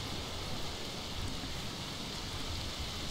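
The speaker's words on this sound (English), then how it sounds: "Oh, it's raining a lot." Heavy rain falls in the video game A Plague Tale: Requiem as a steady, even hiss, faint and unbroken, with no voices.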